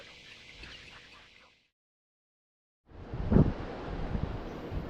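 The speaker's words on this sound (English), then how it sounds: "I'm talking loud because of all the wind out here on the beach" Wind buffets the microphone on a beach at South Padre Island, a steady broadband roar that drops out to silence mid-clip, then returns louder with gusty rumbling.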